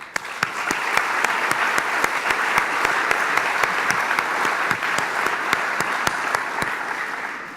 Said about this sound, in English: please stand and accept our applause.